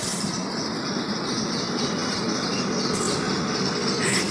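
A train passes in Doha, Qatar, giving a steady, continuous rumble of rolling wheels and carriages that stays loud and even throughout, with no voices heard.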